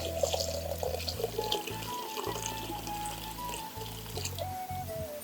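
Water poured over hand-pounded rice and coconut set to soak for a traditional coconut rice, a steady close splashing and trickling stream running unbroken for several seconds with no talk.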